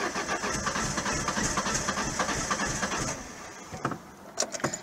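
A Renault Clio running on E85 fuel during a cold start, its engine churning with a steady, rough idle and a few sharp transient knocks near the end, close and fairly loud with no voices.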